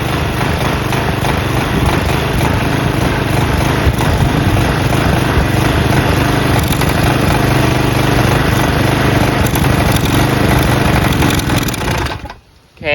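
A Craftsman push mower's Briggs & Stratton flathead engine runs loud and close while being fed sand, a steady rough drone that holds for several seconds before abruptly cutting out near the end.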